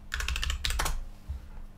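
A password is typed on a computer keyboard in a quick burst of close, light key clicks, followed by a brief pause and one softer tap.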